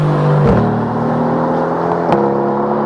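A 2020 Mercedes-AMG GT R Roadster's engine drones loud and close while driving, its steady harmonic tone briefly dipping and shifting at a gear change before holding again.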